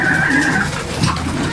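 Lakka fantail pigeons coo at a busy bird market, a low soft cooing close by under steady crowd murmur and market bustle.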